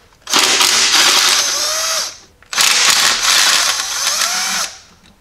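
Two bursts of a power tool, likely an impact driver, spinning out 10mm bolts from the throttle bracket on a Jeep 4.0L engine, each whirring run lasting about two seconds with a short pause between.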